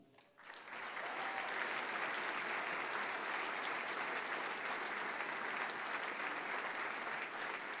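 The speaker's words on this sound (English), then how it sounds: "Another round of applause for our distinguished service winners and our young alumni." Sustained audience applause fills an alumni awards banquet hall, starting after a brief quiet moment and holding steady and dense for several seconds, a large crowd clapping together without any talk over it.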